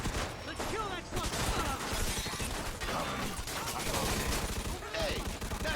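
Dense, rapid gunfire in the game Mafia II, with bursts of automatic fire and sharp shots running almost without a break, loud and close, with shouted voices mixed in.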